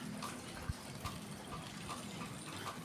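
Water poured into a bottle to dissolve fertilizer for pechay plants, a soft steady trickling and splashing close by with a few faint knocks, no talking.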